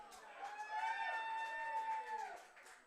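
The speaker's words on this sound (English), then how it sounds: "A little Bronx cheer for the plate umpire." Crowd at a baseball game between the Toronto Maple Leafs and Guelph Royals giving a drawn-out Bronx cheer to the plate umpire, a sustained jeering tone that swells and fades over distant crowd noise.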